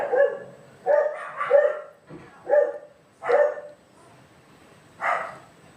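Several dogs bark close by in a quick irregular series of sharp barks with short gaps between, fairly loud and with no talking.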